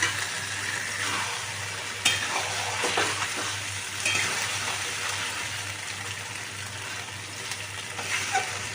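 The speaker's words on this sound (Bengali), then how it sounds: "আদা কাঁচা লঙ্কা মাখা আছে সেটা কাঁচা গন্ধটা যাওয়া পর্যন্ত একটুখানি নাড়াচাড়া করে নেবো" Ginger and green chilli paste sizzles steadily while being stir-fried for paneer with peppers. Scraping and stirring clicks are heard near 2 and 4 seconds over a continuous frying hiss, and nobody speaks.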